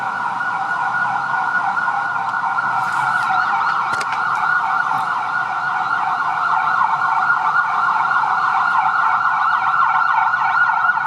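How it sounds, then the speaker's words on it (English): An ambulance siren wails continuously and loudly through busy street traffic in Patong Beach, Phuket, its steady tone holding for the whole stretch with faint road noise beneath. "I hear one of those every single day, at least 3 times a day, ambulances."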